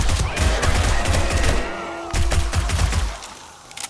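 Rapid bursts of gunfire from the survival video game 7 Days to Die, loud and close, with repeated sharp shots clustered through most of the span before tapering off near the end.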